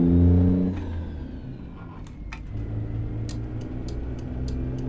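Inside a truck cab in American Truck Simulator, the engine hums loudly and then drops to a lower, steady drone before building again, with faint clicks scattered over it and no talking.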